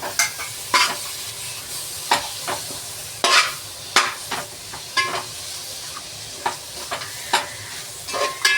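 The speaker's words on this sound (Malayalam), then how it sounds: "നമ്മുടെ ഈ പുതിനയിലയും മല്ലിപ്പൊടിയും കൂടെ അരിഞ്ഞ് വെച്ചതും കൂടെ ഇട്ട് കൊടുക്കാം." Chopped tomato, mint leaves and coriander fry in a pan, with a soft sizzle under sharp, regular scrapes of a spoon stirring about once a second, close and clear, with no voices.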